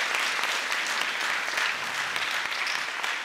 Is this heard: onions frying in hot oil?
no